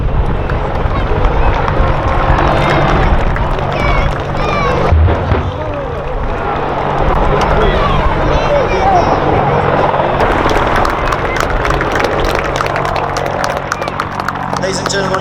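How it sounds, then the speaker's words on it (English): A British Army Apache attack helicopter flies a display at an air festival, its rotor beating loudly and steadily while an announcer talks over the noise throughout. "British Army Apache attack helicopter"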